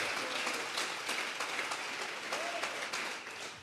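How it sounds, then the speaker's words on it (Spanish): A church congregation at a Sunday service clapping hands in steady, even applause that continues for several seconds at moderate, somewhat distant level. "Dele fuerte esas palmas al que está vivo."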